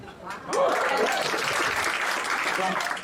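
Stand-up comedy audience clapping across the room, a dense steady wash of many hands that swells quickly and holds, with some faint voices mixed in.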